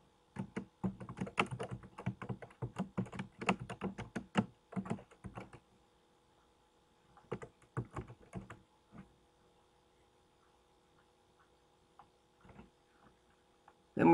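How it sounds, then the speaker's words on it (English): Typing on a computer keyboard, bursts of rapid close key clicks that thin into scattered taps and pauses before a final few keystrokes, in a quiet room. "So just type that in."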